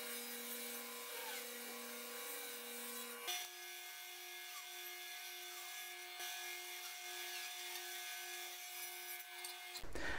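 A table saw nicks off the ends of wood strips, a steady whining tonal hum that shifts pitch partway through and cuts out near the end, heard alone without talk.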